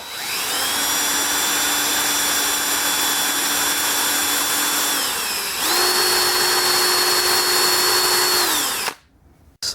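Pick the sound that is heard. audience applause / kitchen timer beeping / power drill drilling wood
power drill drilling wood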